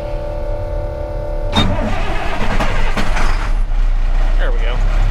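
An older Vermeer BC1800 wood chipper engine cranks over with a steady low drone, then catches and starts around the middle, settling into a loud, rough running idle that continues to the end.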